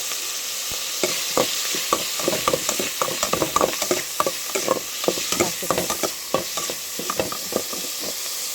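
Vegetables stir-fried in a pan, a constant loud sizzle with a busy run of scraping and clattering utensil strokes throughout, close and with no talk.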